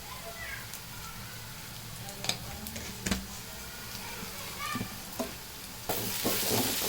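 Spices for egg curry frying in a pan with salt and garam masala, a constant sizzle under repeated scraping strokes of a spoon stirring the mixture, with occasional sharper clicks against the pan.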